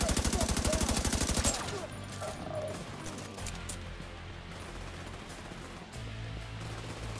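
Gunfire in The Division 2, a rapid automatic burst of closely spaced loud shots, followed by scattered shots and a low rumble under faint talk.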